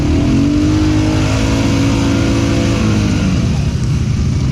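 A stock ATV engine revs hard close up as it pushes through a muddy rut. The loud, sustained roar climbs and then sags in pitch, and faint voices can be heard under it.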